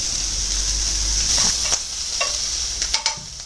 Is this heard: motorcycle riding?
no